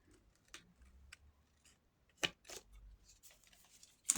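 Scissors snip through paper at a craft table while journal pages are trimmed, giving a few quiet, crisp cuts spread across the stretch with soft rustles between and a sharper snip near the end.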